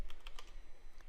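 Rapid keystrokes on a computer keyboard while entering SQL statements, a close, even patter of clicks filling the whole moment with no voices.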